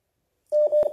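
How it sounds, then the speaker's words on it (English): A phone line tone sounds during a phone-in call on a talk program: a single steady electronic tone lasting about half a second, clear and alone after silence. "I'm just picking phone calls as they are coming."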